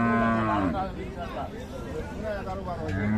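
A Friesian cow lows loudly and close by at a cattle market in Dinajpur, Bangladesh, with long drawn-out moos at the start and end and someone speaking over them.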